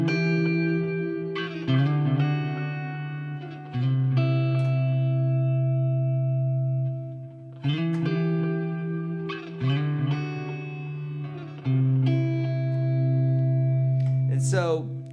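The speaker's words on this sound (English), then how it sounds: "lots of reverb, lots of delay" Electric guitar chords ring out with lush reverb and echoing delay, each strum sustaining and trailing off before the next, with a brief squeal near the end.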